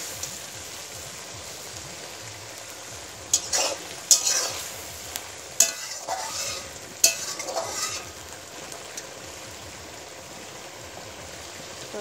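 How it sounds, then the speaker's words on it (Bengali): A Bengali curry of dried fish (shutki) and taro stolons (kochur loti) is stirred in a pot, giving a soft simmering sizzle with several clustered scraping strokes midway, close and moderately quiet. "তরকারিটা নেড়ে নিয়ে আবার আমি ঢাকনাটা দিয়ে দেবো।"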